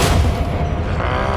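A Confringo fire blast from the Hogwarts Legacy game on PS5 booms loud and close, a dense low-heavy burst that rumbles through the whole short moment with no speech over it.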